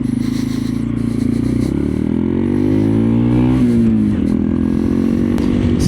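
A slow, low-powered motorcycle pulls hard at wide-open throttle onto a highway, its engine droning loud and close with a steadily rising pitch through the gear, briefly dipping once, then climbing again under wind roar.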